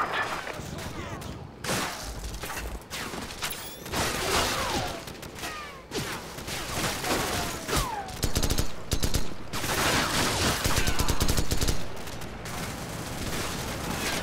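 Call of Duty 4: Modern Warfare gameplay erupts in sustained gunfire, rapid automatic bursts and sharp single shots overlapping at close range, with brief lulls between loud volleys and a voice occasionally heard beneath.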